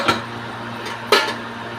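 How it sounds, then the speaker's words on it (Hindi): Two short metallic clanks of a pressure cooker lid being handled and opened in a home kitchen, a faint one then a sharper one, over a steady low hum. "अब हम कुकर का ढक्कन खोलेंगे,"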